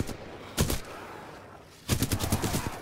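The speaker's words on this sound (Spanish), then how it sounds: "Vamos a disparar desde aquí." Gunfire in the video game Titanfall 2: a short double burst, a pause, then a rapid string of sharp automatic shots, close and loud.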